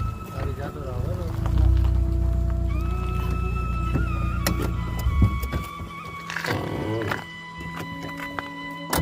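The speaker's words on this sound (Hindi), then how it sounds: "गाड़ी जा तो रहा है।" A car drives past on a road in Silla village, Rudraprayag, heard as a loud engine rumble that fades away, with people talking over it.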